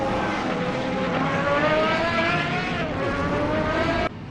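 Race cars from a racing video game, a GTR and GT4 field including a Chevrolet at Laguna Seca, scream past with rising high-pitched engine whine, loud and close, several cars overlapping before the sound cuts off abruptly near the end.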